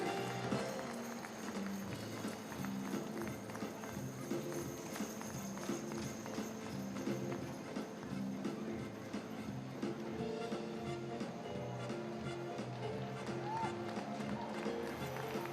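Hooves of Percheron draft horses clip-clop steadily at a draft horse show, a continuous rhythmic patter of many hoof falls under an announcer's amplified voice and arena crowd noise.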